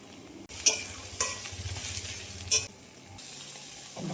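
Garlic and then tomatoes hit hot oil in a pan for duck curry, with a loud close sizzle that swells in bursts and spatula scrapes and clacks over the frying.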